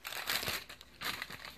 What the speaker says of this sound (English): you just peel the wax paper right off.